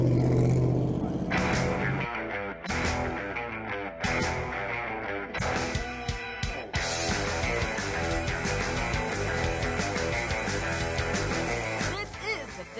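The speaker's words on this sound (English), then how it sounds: "here we are in the paddock at the Mitty at Road Atlanta, and as you can tell, it's loud." Race cars in the paddock at the Mitty at Road Atlanta, loud engines idling and revving close by, with a voice talking over the din.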